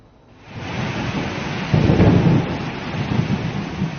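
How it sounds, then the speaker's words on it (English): Thunder rumbles over heavy, unrelenting rain at Jakarta's main airport, the downpour a steady hiss that swells with a deep, loud roll of thunder midway and keeps pouring after it. "Thunder, lightning and unrelenting rain greeted thousands of passengers boarding their planes"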